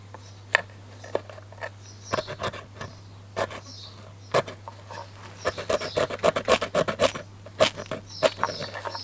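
Short, sharp scrapes on a wax wood fire-starting board, a series of brief rasping strokes that come closer together toward the end, close and fairly quiet over a steady low hum, with no talking.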